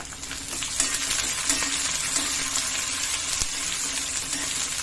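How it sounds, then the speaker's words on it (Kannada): Curry leaves and green chillies, with cumin and onion, fry together in a pan with a dense, close sizzle and light crackle, broken by a few clinks of a spoon against the pan; no speech. "ಕರಿಬೇವಿನ ಸೊಪ್ಪು ಹಸಿ ಮೆಣಸಿನಕಾಯಿ ಎಲ್ಲನೂ ಒಟ್ಟಿಗೆ ಹಾಕೊಂಡು ಫ್ರೈ ಮಾಡ್ಕೊಂಡಿರ್ತೀನಿ"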